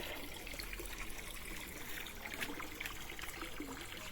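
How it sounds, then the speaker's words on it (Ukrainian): Clean water trickling and pouring steadily at low level during garden work, a soft continuous liquid splash with no talk over it. "Яка гарна водичка, чистенька."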